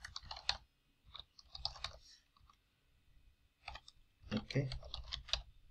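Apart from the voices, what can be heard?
typing a JavaScript function on a computer keyboard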